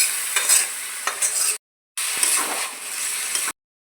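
Boiled mung rice and mung dal being stirred and fried in a wok give a steady, loud sizzle and scrape in two long stretches, separated by a brief silence.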